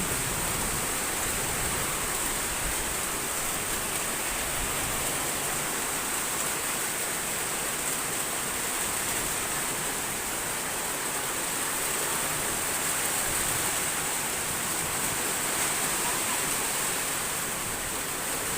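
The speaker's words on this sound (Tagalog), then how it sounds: "Malakas po yung ulan." Heavy rain pours steadily during a thunderstorm, a dense, continuous broadband wash with no breaks or distinct drops standing out, loud and close throughout.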